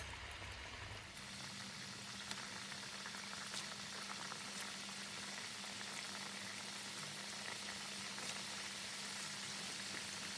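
Vegetable samosas with crispy, oil-enriched dough frying in hot oil, a steady close bubbling sizzle that holds evenly throughout with no talking.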